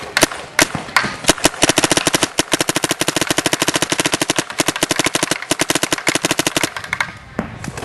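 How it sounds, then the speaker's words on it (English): An Azodin pump paintball marker fires in rapid, sharp pops, a long dense string of close shots with short pauses near the start and end. "the gun's just a very smooth shooting gun"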